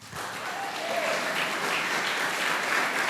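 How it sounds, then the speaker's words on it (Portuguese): A church congregation at a family service claps steadily in praise, a broad continuous wash of applause that builds slightly and holds, fairly loud and close, with a faint voice or tone briefly above it. "E as palmas louvam ao Senhor."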